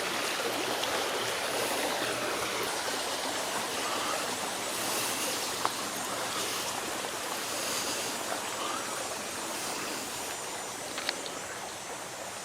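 Water flows in a steady, broad rush like a nearby stream, continuous and unbroken, with no voices.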